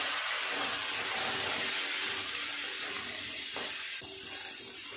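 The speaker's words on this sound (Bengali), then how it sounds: "অল্প একটু জল দিয়ে মশলাটা খুব ভালো করে সবজির সাথে কষিয়ে নেব।" A little water goes into spices frying with vegetables for a silver carp fish curry, producing a continuous hissing pour and sizzle that runs throughout at close range.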